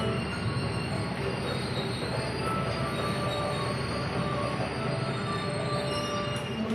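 A Gaya Baru Malam Selatan train pulls into Cirebon Prujakan station, its wheels giving a sustained high metallic squeal over a steady low rumble of rolling cars, loud and continuous.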